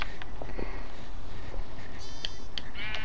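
Sheep bleating in the Minecraft video game, a few short blocky calls over a steady background of game ambience, moderately loud and close.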